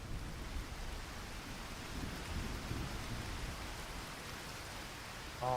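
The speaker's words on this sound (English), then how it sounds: "That's really pissing down now. Look at that weather. That is some harsh weather right there." Heavy rain pours down steadily with thunder rumbling in a survival video game, a dense continuous downpour throughout that swells briefly near the end.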